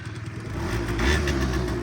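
A Honda Dio AF-34 scooter engine starts from the electric button and runs, a close, fairly loud mid-pitched motor note that swells slightly as it catches and settles into a steady run.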